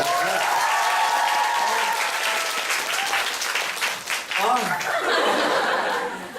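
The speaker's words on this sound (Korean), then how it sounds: "박수 한번 다시 주세요." Audience at a post-show talk for a Korean musical applauding loudly and steadily, a dense wash of clapping that fills the room, with some laughter mixed in near the end.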